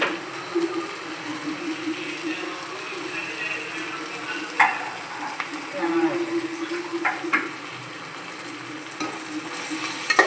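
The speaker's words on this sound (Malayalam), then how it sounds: "അതിന് നന്നായിട്ട് ഇളക്കിയാൽ പെട്ടെന്ന് ഉള്ളി വഴറ്റി വരും" Onions are stirred and sautéed in a pan for a special chicken curry, with a low steady sizzle under occasional spoon scrapes and clinks against the pan.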